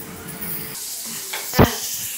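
Eggplant and cucumber frying in a pan for chutney, a steady close sizzle with a brief louder burst of stirring or a pan knock near the end, no talking.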